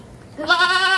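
A single Senduro goat gives a clear, close bleat, a nasal wavering call that starts quiet and rises to full strength, heard alone.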